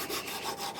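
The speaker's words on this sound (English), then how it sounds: "we can get right in there very easily and do some great detailed sanding" A small hand sander works over a wooden carving, giving a brief, steady, close-up abrasive rubbing on the wood surface.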